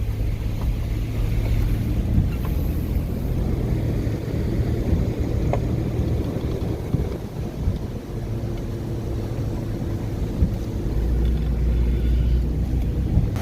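A car driving through deep hurricane floodwater near a park, a steady low rumble of engine and churning water with faint gurgling from the submerged exhaust, wind buffeting throughout with no talk.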